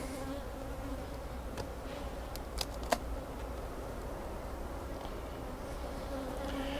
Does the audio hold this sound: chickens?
no